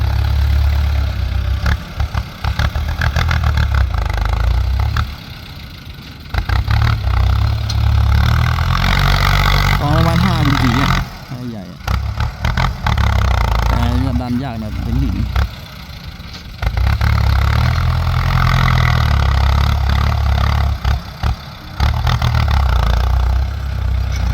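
A tractor engine chugs and idles loudly up close while pushing a pile of soil in Cambodia, with clattering and revving surges as it works, briefly dropping and picking back up.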